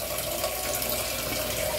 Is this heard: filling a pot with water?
yes